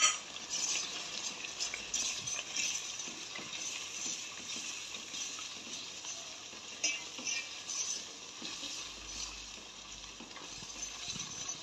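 Spices sizzle steadily in hot oil while cooking a spicy fish sambar, giving a continuous close frying hiss with occasional clinks of a stirring spoon against the pan.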